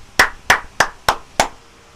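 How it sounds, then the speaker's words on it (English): A classroom of students claps in unison, giving five crisp, evenly spaced claps close by, with short silences between them. "Let us clap our hands"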